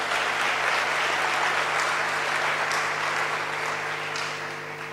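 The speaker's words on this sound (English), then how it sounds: "Can you give yourselves a warm round of applause?" A crowd at a student entrepreneurship gathering applauds warmly, a dense, continuous clapping heard close and loud for several seconds before easing off slightly.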